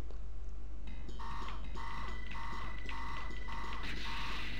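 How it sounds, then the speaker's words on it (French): A stressful warning alarm in the 1993 shoot-'em-up video game Gunnail pulses as repeated evenly spaced electronic tones over dense, continuous game noise and music. "Elle est super bien trouvée, cette alarme stressante, parce qu'elle fait vraiment son office"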